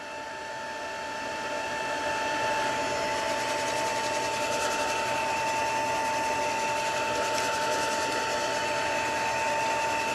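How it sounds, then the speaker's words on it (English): Heat gun running steadily during an eggshell craft project, a constant close whirring blow with a faint tonal hum that rises slightly at the start and holds for about ten seconds without speech. "Just cleaning off my heat gun as I go along."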